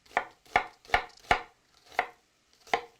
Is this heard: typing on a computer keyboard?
no